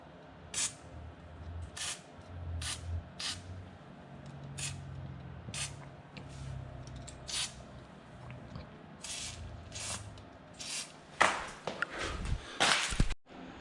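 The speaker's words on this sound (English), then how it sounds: "I'm gonna spray some Debond into the" An aerosol can of Debond hisses in repeated short sprays into gaps around an exhaust flange on a Heyday FAE exhaust, quick bursts spaced irregularly, followed by clanking and scraping near the end.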